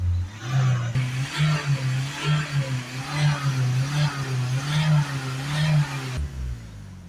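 A Ford Galaxy S-Max 2.0 diesel engine with a clogged particulate filter idles steadily, then is revved repeatedly, the pitch rising and falling in several surges before settling back down.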